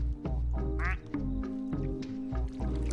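An alien duck in a video game quacks several times in a row, loud nasal honks with brief gaps between them.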